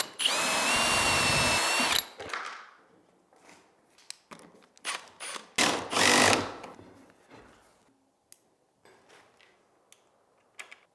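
A power drill tightens a bolt on a cable railing post, with a loud steady whir for about two seconds and then bursts of clanking and handling noise that trail off.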